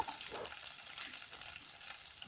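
Onion, green chili and carrot pieces fry with cumin and mustard seeds in a pan, making a soft, steady sizzle that stays quiet and even, with no talking.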